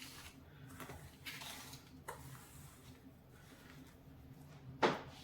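Semolina is mixed into a vegetable semolina cake batter: quiet, close spoon scrapes and light clinks against the bowl, ending with one brief sharper knock.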